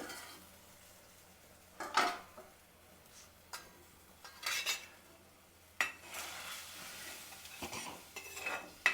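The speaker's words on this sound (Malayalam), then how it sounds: "നമുക്കൊന്നിങ്ങനെ ഇളക്കി കൊടുക്കാം അപ്പോൾ എല്ലാം കൂടി ലയിക്കും" Intermittent scraping and clinking of a utensil stirring a boiling mackerel curry in a pot, several short bursts with quiet gaps, fairly close.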